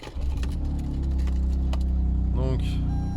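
A car engine rumbles low and steady as the vehicle pulls away, with a brief voice cutting in near the end.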